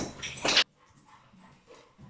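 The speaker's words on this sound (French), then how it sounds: "j'ai dû faire une petite coupure pour remettre les choses d'équerre avec mes deux petits chiens qui font des coquineries" Two small dogs let out a brief burst of close, loud whimpering and barking at the start, then only faint rustling and quiet room sounds follow.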